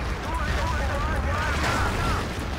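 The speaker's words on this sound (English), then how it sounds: "Artillery, just what I needed." Artillery bombardment in Battlefield 2 rumbles as a continuous loud, dense roar of explosions with no clear gaps between blasts.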